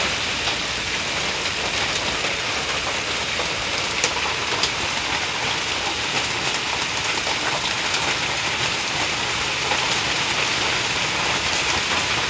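Steady rain falls continuously, a dense, even hiss of drops on surfaces that stays constant from start to finish with no voices.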